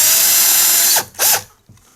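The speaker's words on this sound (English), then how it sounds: "You just want to drill like a pilot hole." A handheld power drill bores a small pilot hole, whining loudly and steadily up close, then cuts out, revs briefly once more and stops.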